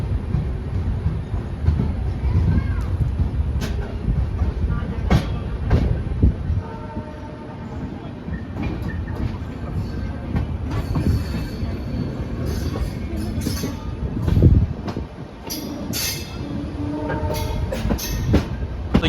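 The Jodhpur–Delhi Mandore Express pulls out of a quiet station, a loud, steady rumble of wheels with rhythmic clacks and metallic squeals building over about twenty seconds, close by with no talk.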